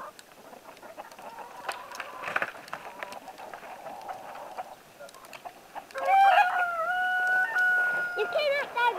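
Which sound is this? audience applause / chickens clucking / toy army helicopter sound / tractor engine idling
chickens clucking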